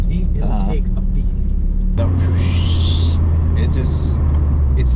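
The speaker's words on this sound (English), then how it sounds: "It's so defined, the turbo noises." A Nissan S14 with a turbocharged KA engine droning loudly and continuously, with a rising turbo whistle partway through, heard from inside the car.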